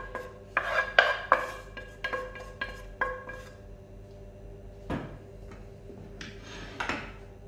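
A utensil scrapes beef lasagne ingredients out of a container, with a string of short rasping strokes and clinks, fairly close, followed by a few scattered scrapes after a pause.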